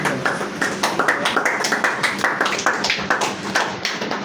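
An audience of youths in Uyo claps steadily, a close, rhythmic patter of many hands at a fairly even pace from start to finish, with little talk.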